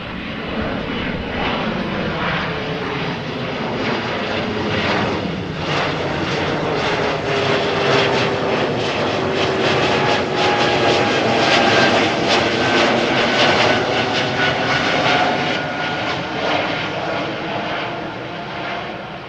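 Airliner engines roar steadily and loudly on the departure runway at Amsterdam Schiphol Airport, a broad continuous rumble swelling slightly through the middle and holding strong for about twenty seconds with no talk.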